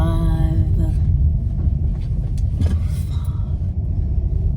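A car rolls along the road, heard as a steady, loud low rumble of engine and road noise from inside the vehicle, continuous for the whole stretch with no talk.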